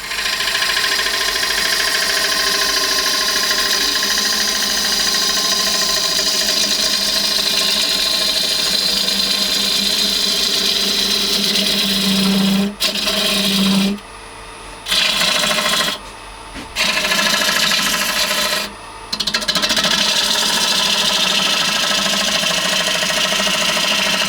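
A compact wood lathe turning an olive ash bowl, with a steady motor hum and the continuous rubbing hiss of a tool cutting the spinning wood, loud and close, dropping out briefly several times near the end as the cut stops.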